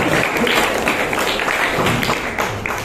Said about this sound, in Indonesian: Tepuk tangan lagi sekali lagi untuk saudaraku